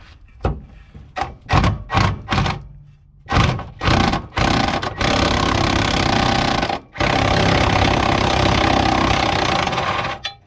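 An impact wrench hammers at a lower control arm nut on a car, sounding in several short loud bursts and then a long continuous rattling run, close by.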